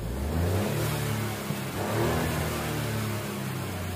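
A Ford Fiesta engine, under diagnosis for a missing RPM reading, revs up and settles in a close, steady mid-pitched drone, swelling twice over a few seconds with no talk.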